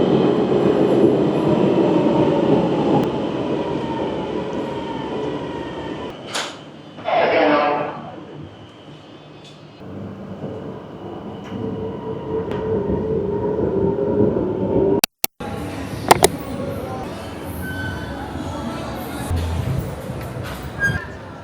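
Rumbling interior of a moving train in Milan, with steady low rail noise throughout, a brief hiss or screech passing midway, a sharp clunk near the end, and occasional faint voices in the background.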